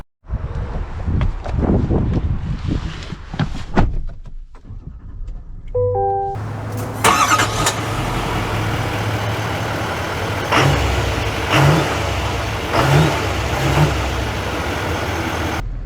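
A 2024 GMC Sierra 3500 Denali pickup with the Duramax engine starts partway through, then settles into a steady, close engine rumble with wind noise and a few faint knocks as it drives.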